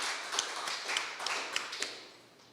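Audience applause at a lecture on the West Indian family: a dense patter of many hands clapping at moderate distance, steady with a few sharper claps, gradually fading toward the end.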